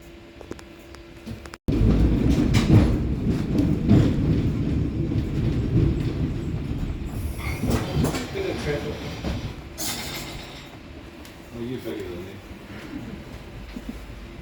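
A Christchurch heritage tram rolls along with a low steady rumble and rattling wheels, heard from on board, while a voice talks over it.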